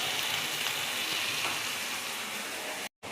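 Chilli, raisin and melon seed spice paste frying in a hot pan for a butter chicken, a steady dense sizzle with no talk, cutting off briefly near the end.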